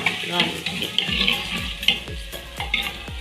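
Butter melting in hot oil with onions for a restaurant-style mixed vegetable makhni achari, sizzling steadily while a spoon scrapes and stirs the pan in regular strokes, close and clear.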